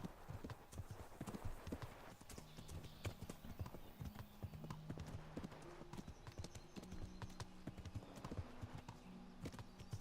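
Horse hooves clip-clop in a steady, continuous rhythm while riding in the medieval game Kingdom Come: Deliverance, fairly close, with brief low tonal sounds mixed in.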